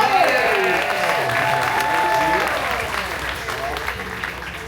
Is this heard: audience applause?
yes